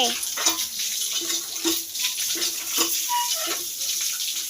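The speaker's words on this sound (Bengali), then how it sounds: "এই দেখো ভালো করে ধুয়ে নিছি একদম চকচকা করে" A dish being washed under a running kitchen tap, water gushing steadily with repeated clinks and splashes as it is rinsed, close by and fairly loud.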